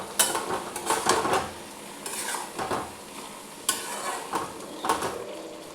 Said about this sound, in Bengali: একবার নাড়িয়ে নিলাম, আবার ঢাকাটা দিয়ে দিচ্ছি আমি